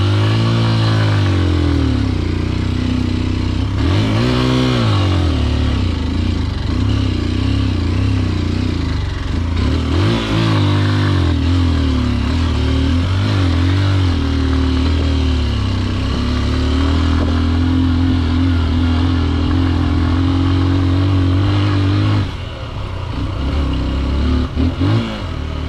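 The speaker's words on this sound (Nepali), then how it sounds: "बाइक आयो अगाडि।" Motorcycle on a Saturday ride, its engine loud and close, droning steadily and rising in pitch through repeated bursts of acceleration, with wind rush all through.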